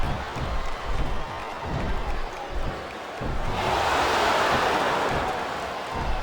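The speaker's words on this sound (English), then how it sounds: "Listen to the crowd, JR." Wrestling arena crowd at a cruiserweight battle royal, a roaring mass of cheering and noise that rises noticeably halfway through into a louder, brighter swell, with commentary voices mixed underneath.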